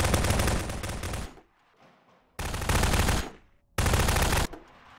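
Rapid automatic gunfire from a prop hunt video game comes in three loud, close bursts of sustained shooting separated by short pauses, with no talking.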